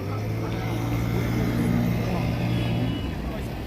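Boat engines drone steadily on the sea at the Gateway of India in Mumbai, a low continuous rumble with faint background voices.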